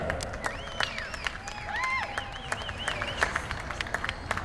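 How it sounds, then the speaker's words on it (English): Outdoor crowd applause during a charity rappel down the 26-story Benson Tower, scattered sharp claps over a busy background with whistles or cheering tones rising and falling, moderately distant. "Ladies and gentlemen, a round of applause for Brooke Baker."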